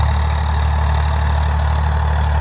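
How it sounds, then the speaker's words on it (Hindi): A 48 HP Farmtrac tractor on 45-inch tyres runs steadily with a 7-foot rotavator attached. A loud, continuous low engine drone with a rhythmic throb fills the whole stretch, close up, with no talk. "अड़तालीस HP वाला ट्रैक्टर है ये, 45 तेरे के टायरों में। और कितना मस्त चल रहा है"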